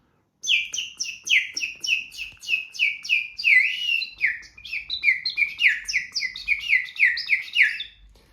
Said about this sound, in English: This one is our hand-painted bird whistle